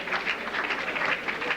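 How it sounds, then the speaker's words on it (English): A banquet audience applauds in a dense, continuous patter of many hands clapping, steady and fairly loud for a brief stretch. "let's give George a round of applause"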